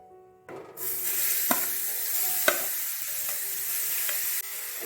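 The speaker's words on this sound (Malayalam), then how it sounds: "അതിലേക്ക് ആ നെയ്യിലേക്ക് തന്നെ നമ്മൾ ബീറ്റ്റൂട്ട് ചേർത്ത് കൊടുക്കുകയാണ്" Beetroot sizzles and fries in ghee in a pan while being stirred for beetroot halva, a loud steady crackle starting after a brief quiet moment, with a few sharp scraping knocks of the spoon and no talking.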